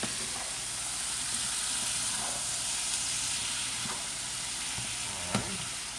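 Broccoli sizzles steadily in a hot frying pan with fried potatoes for a South Indian broccoli dish, a constant close hiss broken by a few faint scraping stirs and one sharper clink near the end.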